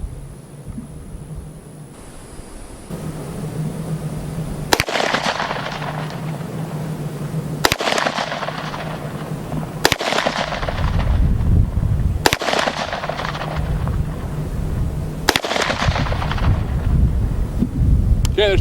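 Five loud, sharp gunshots from an UZI or MP5 submachine gun crack out at spaced intervals outdoors, over steady wind and background noise.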